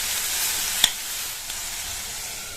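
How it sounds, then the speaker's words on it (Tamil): Tomatoes sautéing with ginger-garlic paste and a little salt in a pan, sizzling steadily and softly throughout with one brief clink near the start. "இதை நல்லா வதக்கி விட்டுட்டு"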